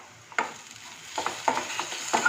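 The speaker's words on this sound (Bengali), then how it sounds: "ভালো করে আবার একটু মিশিয়ে নেব।" A spoon stirs garlic into potato and spices frying in a pan, a handful of scraping strokes over a low sizzle, close and fairly loud, with no talk.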